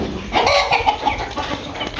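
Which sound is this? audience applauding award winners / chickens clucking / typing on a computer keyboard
chickens clucking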